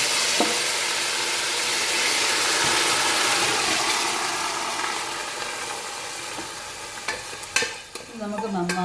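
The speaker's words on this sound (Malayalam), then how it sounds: "വേവിച്ച് വെച്ചിരിക്കുന്ന ബീഫ് ഇതിലോട്ടിടാം" Cooked beef tipped into a hot pan of browned onions and curry leaves for Kerala-style beef varattiyathu, a steady loud sizzle and fry with a spatula stirring and scraping, a few metallic clinks near the end.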